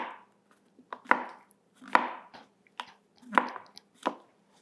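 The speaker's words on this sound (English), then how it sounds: "So these are baby Bellas, and we're gonna slice them thin." A knife slices baby bella mushrooms thin on a cutting board: distinct, fairly close chops in an uneven rhythm, about eight cuts with short gaps between them and no talking.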